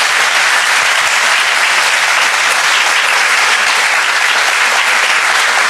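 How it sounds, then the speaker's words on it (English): A triathlon club audience at a Q&A applauds the guest speaker, loud dense continuous clapping sustained evenly for several seconds with no talk over it. "How about a round of applause for Mr. Cameron Wurf?"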